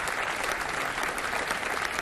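Audience at an abolition-of-slavery commemoration ceremony applauds steadily, a dense wash of many hands clapping at moderate distance with no voices on top.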